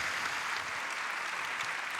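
Sustained audience applause fills a hall at an entrepreneurs' awards evening, a steady dense wash of clapping without pause or talk.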